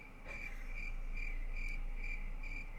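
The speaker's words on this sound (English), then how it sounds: "I like the crickets." Crickets chirp in a steady, regular rhythm of short high trills, moderately close and fairly quiet, with a low constant hum beneath and no voices.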